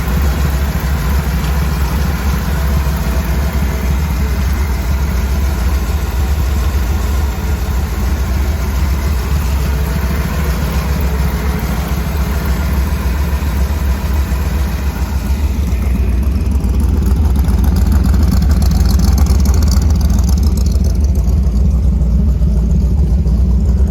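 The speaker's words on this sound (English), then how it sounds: "we're going to get the engine cranked up and take it for a spin." A 1966 Ford Mustang engine idles steadily with a low, even rumble for the whole stretch, close by, swelling slightly louder near the end.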